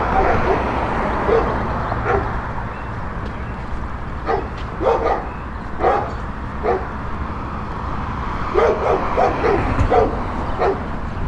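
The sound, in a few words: dogs barking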